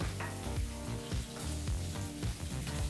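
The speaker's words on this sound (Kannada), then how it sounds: "ಈಗ ಈ ಕ್ಯಾಪ್ಸಿಕಮನ್ನು ಸಹ ಎರಡರಿಂದ ಮೂರು ನಿಮಿಷ ಚೆನ್ನಾಗಿ ಫ್ರೈ ಮಾಡ್ಕೋಬೇಕು" Capsicum and onion frying in a pan over a medium flame, a steady close sizzle with repeated stirring scrapes and clinks throughout.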